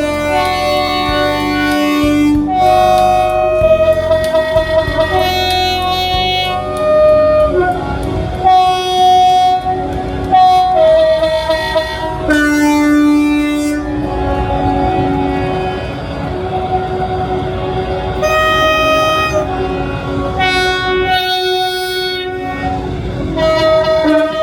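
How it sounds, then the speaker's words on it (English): Locomotive horns blare at a busy railway gathering in Derby, several overlapping multi-tone blasts sounding one after another and together over a continuous loud engine rumble. "as one person blows their own trumpet,"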